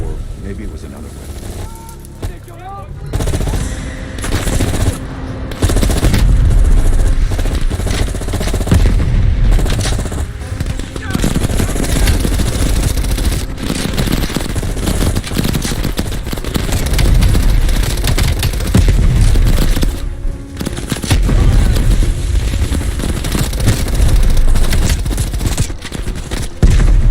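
M16 rifle gunfire in Call of Duty Black Ops Cold War, loud dense bursts of shots with explosions and engine noise mixed in, under a voice talking.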